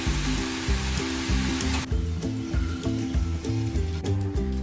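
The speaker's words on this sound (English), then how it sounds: "we're going to take our chopped onions and just put them directly in there and let them fry up until they're a kind of black and brown color" Chopped onions fry in a pan with a broad, hissing sizzle that is strongest at first and then eases, heard beneath a prominent musical backing.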